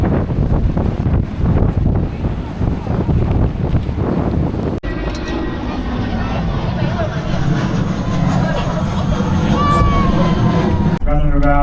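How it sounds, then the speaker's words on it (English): Strong wind roars steadily across the microphone the whole time outdoors in Wellington, New Zealand, a loud buffeting rumble with faint voices underneath. "As I'm sure you can hear, it is very, very windy out here."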